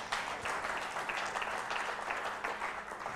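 An audience at a readers' theater performance claps in dense, sustained applause that stays even and full throughout.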